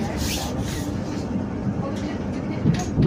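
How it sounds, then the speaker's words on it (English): A West Midlands Railway class 730 train in motion on the run toward Walsall gives a steady, close interior rumble of wheels and running gear, with faint voices murmuring over it throughout. "Aboard this West Midlands Railway service for Walsall."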